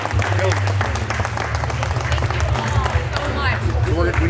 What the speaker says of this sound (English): A round of applause for Brian and Kerry.